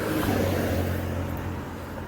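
A car rumbles past on a road beside a park, a close, steady low engine drone that fades slightly as it moves away.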